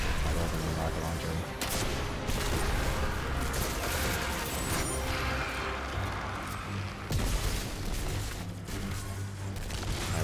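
Weapon fire and rocket-launcher blasts from the final level of Destiny 2 The Witch Queen: a loud, continuous din of shooting with heavy bursts and booming impacts, strongest near the start and again toward the end.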